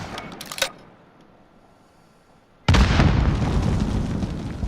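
A gunshot fired at a spawn tube in Modern Warfare bursts in sharply, a loud sudden blast followed by a sustained crackling rumble, coming after a few faint earlier pops and a lull.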